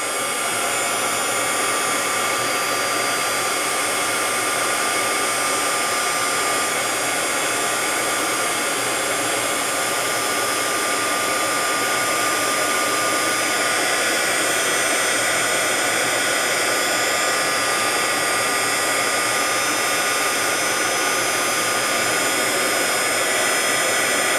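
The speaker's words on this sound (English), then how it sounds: "Now I'm melting the embossing powder." A heat tool melts embossing powder on journal pages, blowing a loud, steady, continuous whooshing whir at close range for the whole stretch, with no talk.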